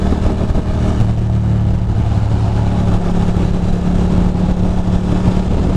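A motorcycle engine drones steadily throughout, a continuous low rumble with a faint mid-pitched hum, close and fairly loud with no voices.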